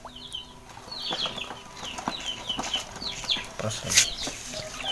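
Chickens suffering from a cold or flu cluck and chirp in short, repeated calls close by, with occasional wing flapping and handling noises while a person speaks briefly.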